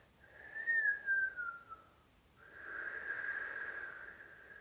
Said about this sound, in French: vous allez commencer à siffler, aussi bien à l'inspire qu'à l'expire